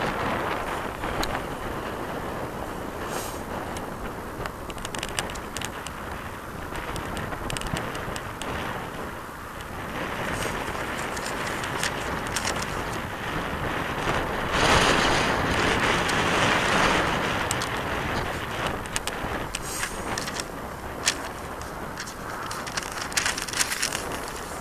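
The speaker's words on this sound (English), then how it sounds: "You can hear me with the wind." Wind buffeting an outdoor microphone, a steady rough roar across the whole stretch that swells louder midway, with no voices over it.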